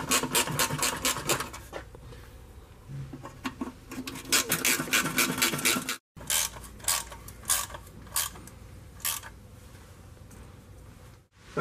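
Ratcheting and creaking as transmission pan bolts are tightened on a Land Rover Discovery Series II, quick bursts of clicks close by with short pauses between runs and no voices.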